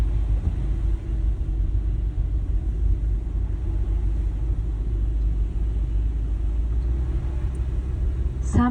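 A car's engine droning in a low, steady rumble as it picks up speed on the road in a driving lesson, heard from inside the car with road noise and no talking.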